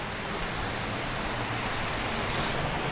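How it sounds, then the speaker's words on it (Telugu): Water trickles and runs down rocks on a hillside, making a steady, dense wash of splashing close by that stays even and unbroken throughout with no talk over it. "ఇక్కడి నుంచి కూడా వాటర్ అనేవి కారుతున్నాయి ఇదిగోండి ఈ రాళ్ళలో కూడా వాటర్ అనేవి కారుతున్నాయి"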